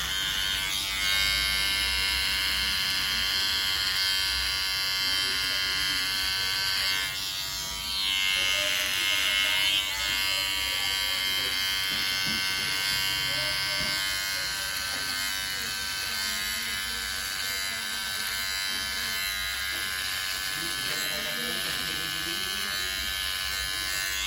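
Electric hair clippers buzz steadily and close up while trimming the side of a head down to a zero fade, a continuous whine running the whole time with slight shifts as the blade moves.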